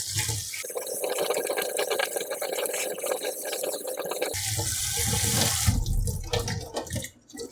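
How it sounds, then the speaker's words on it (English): Cold water runs from a tap and splashes into a sink over noodles being rinsed, shifting to a heavier gush partway through before cutting off near the end. "rinse it with running cold water"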